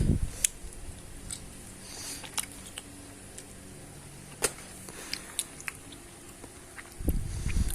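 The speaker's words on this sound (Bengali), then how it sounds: "আমি খাইতাছি 10 বছর পরে কাঁঠাল পাইছি, খাইতাছি।" Someone eating jackfruit, with a series of sharp, wet bites and squishy chewing sounds at irregular intervals, close to the microphone, and a louder rustle at the end.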